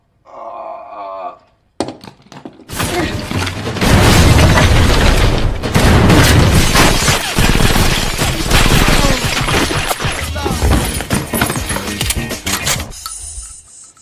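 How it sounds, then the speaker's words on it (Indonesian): A gunfire shootout inside a house in the film Mr & Mrs Smith: loud, dense bursts of shots, booms and crashing debris run continuously for about ten seconds, after brief speech at the start. "Di dalam rumah, aksi saling tembak layaknya pro player PUBG pun dimulai"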